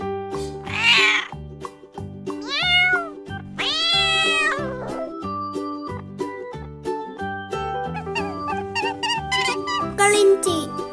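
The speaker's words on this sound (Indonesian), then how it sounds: "Kucing. Cat." A cat gives several drawn-out, clear meows, some rising and wavering, heard up close over a bouncy backing tune with tinkling accents.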